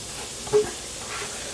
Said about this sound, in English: Once the butter is melted, we're going to add our white onion or shallot if you happen to have one.